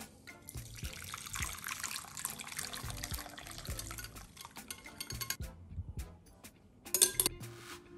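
Rose water poured from a container, a quiet trickle and splash with a few soft clinks and knocks, close up and without talk.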